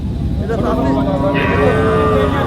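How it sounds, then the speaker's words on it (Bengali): A small native-breed cow lets out a long, loud moo nearby at a cattle market in Chougachha, its low drawn-out call rising in the middle amid outdoor background noise. "এই যে একটা গাভী গরু দেশি জাতের ছোট্ট গাই"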